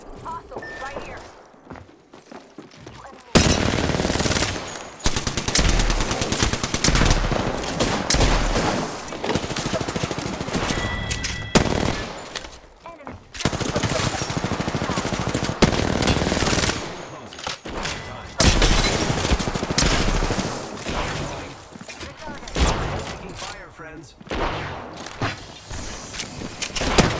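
Rapid bursts of automatic gunfire and shots ring out in a video game firefight on the Kings Canyon map, loud and sustained across most of the stretch with brief lulls, footsteps and a voice mixed in.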